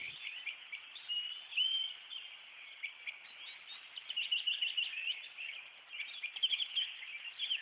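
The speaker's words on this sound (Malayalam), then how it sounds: "ആ മരത്തിൽ നിന്ന് കിളികൾ കരയുന്നത് കേട്ടോ?" A flock of birds chirps from a tree in an animated scene. Bright, overlapping tweets come in a steady, busy stream at moderate volume, with no voices.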